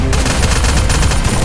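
Rapid, sustained automatic fire from a P90 submachine gun in a shooter video game, a dense loud rattle of shots running continuously without pause.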